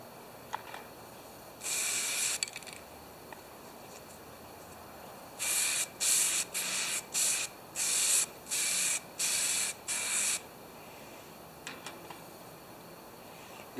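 Hissing bursts from a spray paint can painting a Homelite XP1020 chainsaw: one longer spray, then a rapid series of short, evenly spaced sprays, close and fairly loud with quiet gaps.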